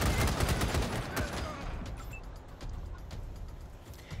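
A cannon mounted on a clown car fires at a raider in the video game Wasteland 3, a rapid burst of booming shots fading into echoing rumble, loud and close with no talk.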